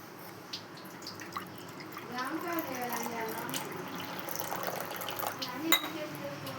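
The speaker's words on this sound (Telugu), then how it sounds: "రెండు కప్పుల వాటర్ వేసుకున్నాం" Water pours from a cup into rice flour for a batter, a soft liquid trickle and gurgle rising in the middle, with small clinks and a voice speaking quietly over it.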